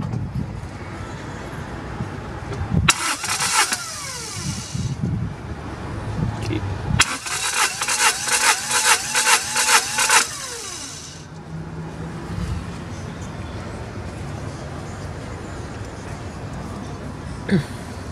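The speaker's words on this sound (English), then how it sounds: "Okay, so do a couple of cranks." A car engine cranks over on the starter during a compression test on a 2CV-type car, two bursts of rhythmic, pulsing cranking about three and four seconds long, loud and close, with quieter workshop background between them.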